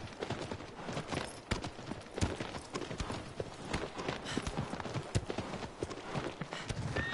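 Horse hooves clip-clop in the video game Shadow of the Colossus, a continuous galloping patter of dull thuds, close and steady throughout, with no talk.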